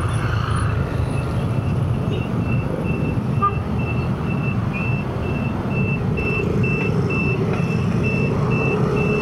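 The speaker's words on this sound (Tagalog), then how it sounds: "Traffic." Heavy road traffic on a highway in Rizal province, Philippines, with a truck's steady low engine rumble and a repeating reversing beep sounding throughout.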